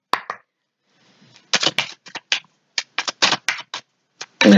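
Oracle cards being handled and shuffled, a series of crisp, close riffling bursts and taps in irregular clusters with short pauses between, fairly loud and with no talking.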